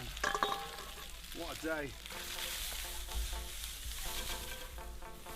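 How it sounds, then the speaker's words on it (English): Spam, shallots and garlic fry in a hot pan with a steady loud sizzle and occasional stirring, while someone talks over the cooking. "In with my spam, shallots and garlic."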